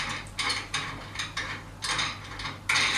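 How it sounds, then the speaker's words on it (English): Short metallic ratcheting clicks and rattles come in several quick bursts, close and fairly quiet, as the height of a junior drum kit cymbal stand is adjusted. "the cymbal stand, you can adjust it to the height you want"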